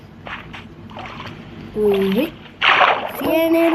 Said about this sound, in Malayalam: നമുക്ക് ഈ പുഴ ചാടി കുളിച്ചിട്ടെന്നാലും